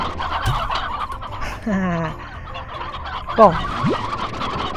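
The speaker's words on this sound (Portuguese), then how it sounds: "vamos colocar as galinhas aqui dentro" Chickens cackle and cluck in the video game Slime Rancher, with several rising and falling squawks that sound fairly close. A brief spoken word is heard under the game audio.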